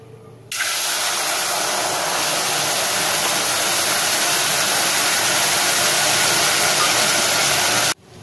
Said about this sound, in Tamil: இப்போ தேவையான அளவு தண்ணி சேர்த்துட்டோம்.